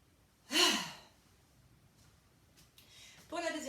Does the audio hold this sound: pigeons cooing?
no